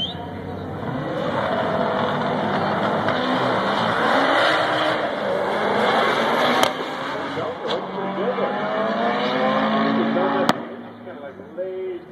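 A 1971 Celica and a 1995 Civic race cars drive at an auto racing event, engines revving and rising in pitch as they pass, with sharp bursts, while a voice talks over the motor noise.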